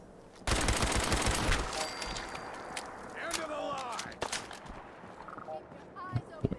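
Rapid bursts of gunfire from raiders in the video game Fallout 4 crackle loudly at first, then thin into scattered shots, with game voices and effects in between.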